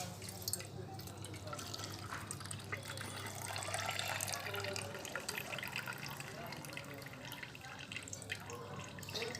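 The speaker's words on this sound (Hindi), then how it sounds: "तो इसको मैं पहले निथार लेता हूँ किसी बर्तन में।" A herbal preparation with rose extract is strained and decanted into a vessel, liquid trickling and dripping steadily up close, with a voice speaking faintly at times.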